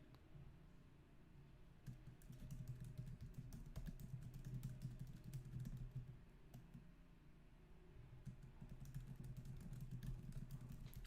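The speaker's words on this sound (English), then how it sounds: "I'm just typing notes to myself on my profile for you." Quick, light keystrokes on a computer keyboard click in a steady scattered patter, faint and close, over a low background hum with no talking.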